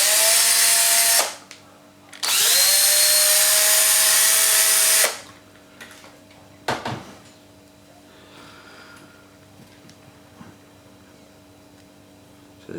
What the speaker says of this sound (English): You have to drill it out a little bit.